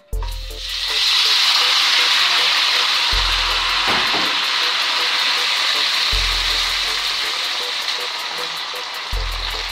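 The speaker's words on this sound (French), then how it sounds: "j'ai déjà chauffé et de l'huile. Tout de suite des oignons." Onions dropped into very hot oil in a pan, bursting into a loud, steady, hissing sizzle that fills the whole stretch up close, with low hum thumps recurring underneath.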